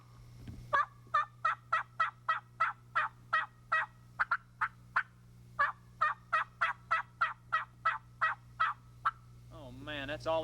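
A turkey call imitates an aggressive hen yelp, with two long runs of loud, sharp, evenly spaced yelps broken by a short pause, close over a steady low hum.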